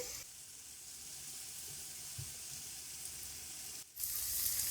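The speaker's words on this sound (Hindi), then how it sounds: "प्याज को हम 4 से 5 मिनट हल्का सा रोस्ट करेंगे। फ्लेम हम तेज ही रखेंगे।" Finely chopped onions fry on a high flame with a dense, steady sizzle close by, and a brief dip near the end before the hiss returns louder and brighter.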